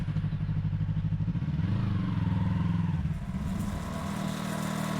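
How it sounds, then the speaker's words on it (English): A Yamaha R3 sport bike engine hums steadily during a ride, its low pulsing drone rising in pitch briefly as it revs, then settling back to a moderate, even tone. "First ride on the Yamaha R3."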